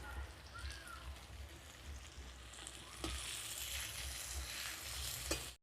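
Cashews and raisins fry in ghee with a steady, close sizzle and crackle, with occasional stirring knocks and scrapes against the pan.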